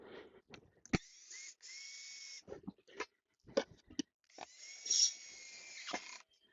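Power drill driving screws into a wooden stool during assembly, with several bursts of steady whirring separated by clicks and knocks, loudest near the end.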